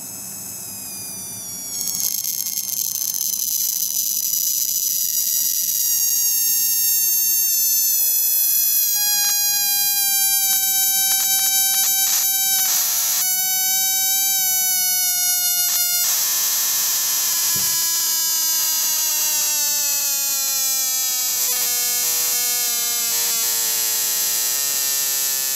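An ignition coil driver throws a buzzing, whining corona discharge at a short duty cycle, its pitch shifting as the frequency is cranked down, loud and continuous with no talk.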